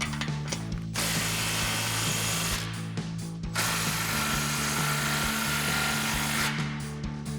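Exhaust clamps on a Toyota Tundra aFe Mach Force-XP 3-inch exhaust are tightened with a 15 mm socket, giving a close, quick ratcheting clicks in short runs with brief pauses between them.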